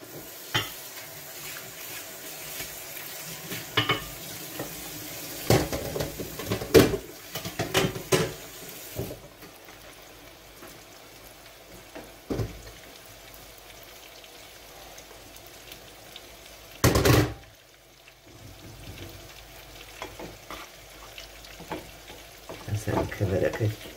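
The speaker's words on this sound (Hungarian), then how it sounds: "beledobom a hagymát." Onion drops into hot oil and fries in a pan, a low, steady sizzle broken by scattered clinks and scrapes of stirring and a few louder knocks, close and fairly quiet, with no talk.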